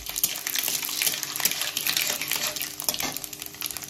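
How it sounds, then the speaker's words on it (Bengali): Dry red chillies and a bay leaf dropped into hot oil, a dense continuous crackling sizzle, close and fairly loud, with no voices. "তেল গরম হয়ে গেছে, আমি শুকনো লঙ্কা আর তেজপাতা আগে দিয়ে দিলাম।"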